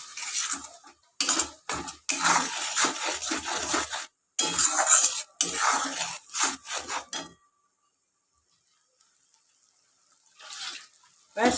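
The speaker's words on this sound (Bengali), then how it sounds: "এবার এটাকে নাড়তেই থাকবো।" A utensil scrapes and rubs repeatedly in a pan while egg curry with spices is stirred, the strokes coming in rhythmic close bursts, then falling silent before a few faint final scrapes.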